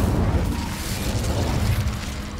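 A fire spell from the game Hogwarts Legacy erupts as a dense, steady roaring burst of flame, broadband and loud with a heavy low rumble, lasting throughout without speech.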